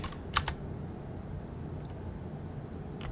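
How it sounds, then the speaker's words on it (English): A few faint, isolated keystrokes on a computer keyboard click over a low background hum, with a short cluster near the start and a single tap at the end. "He was still typing it."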